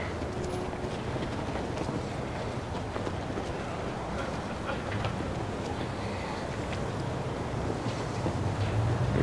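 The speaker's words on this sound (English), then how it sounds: "I guess it's pretty windy in SoCal." Strong outdoor wind at a car show in Las Vegas buffets the microphone with a steady, rumbling roar that builds slightly toward the end.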